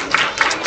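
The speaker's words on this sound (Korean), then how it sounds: "박수!" Children clap in a church during a puppet show, a short burst of scattered applause close by.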